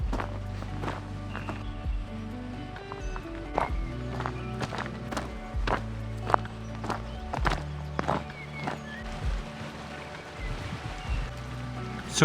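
Footsteps crunch along a path in the Gwyddon Valley of South Wales, a steady, close walking rhythm of distinct steps continuing throughout with faint outdoor ambience.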